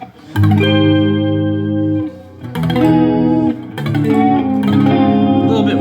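Electric guitar chords ring out through a lush, wavering AZOR analog chorus pedal, several sustained strums with short gaps, warm and close.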